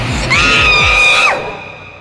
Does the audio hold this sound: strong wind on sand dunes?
no